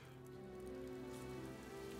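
Rain in the video game Fire Emblem: Three Houses, a faint steady patter of falling rain over a low, sustained game music drone, with no talk.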